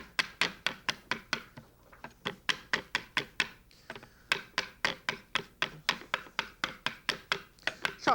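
A knife chops capers finely on a cutting board in a brisk, even rhythm of sharp, close knocks that pause briefly midway, then resume.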